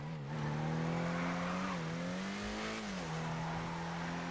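Zion Classic car engine in GTA 5 Online accelerating, a loud continuous droning engine note that climbs and dips in pitch as it revs, with no talk over it.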